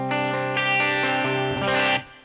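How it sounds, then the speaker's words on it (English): An electric guitar played through a rig with a reverb effect rings out in a couple of sustained chords with a bright, washy tail that fades after about two seconds, with no talking. "So this is a decent reverb sound"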